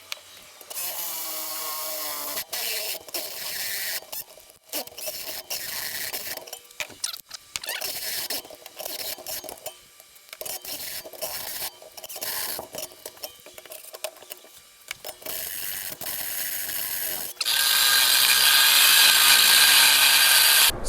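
A drill bit boring a roughly 1.1-inch hole through a steel frame rail gives repeated grinding, scraping bursts separated by short pauses. A louder, harsher continuous stretch near the end.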